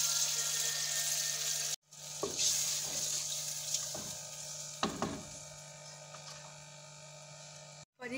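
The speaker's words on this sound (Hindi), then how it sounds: "इसमें 2 ग्लास के करीब जो है पानी ऐड करेंगे।" About two glasses of water pour and splash into a pot of Kabuli pulao with a steady sizzle underneath, broken by a couple of brief pauses.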